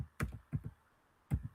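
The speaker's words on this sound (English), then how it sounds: "I'm typing" Keys on a computer keyboard are struck in short bursts of a few clicks each, close and crisp, separated by quiet pauses.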